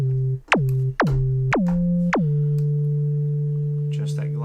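AudioKit Sub Bass 808 synth plays a series of deep bass notes, each struck with a sharp pitched attack that glides quickly down and then sustains; four hits followed by a long held tone, loud and clear.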